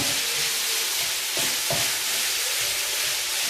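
An egg and potato omelet mixture is stirred in a hot pan, a constant loud sizzle with a few soft scraping strokes of the utensil underneath.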